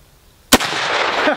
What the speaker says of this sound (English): we'll come back to this other one and shoot even a little bit lower this time